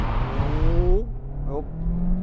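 A front-wheel-drive Audi Q3 with a 1.5-litre 150-horsepower turbo petrol engine and seven-speed automatic launches hard. Revs climb loudly, dip at a gear change, then rise again.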